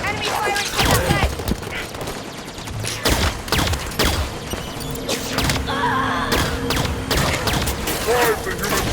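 Heavy gunfire in the Halo 5 Guardians Covenant battle, with bursts of rapid shots and sharp impacts throughout, dense and loud, under in-game voices and battle clamor.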